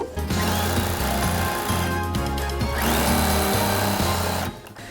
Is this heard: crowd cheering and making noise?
no